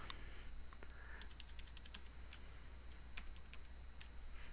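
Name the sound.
typing on a computer keyboard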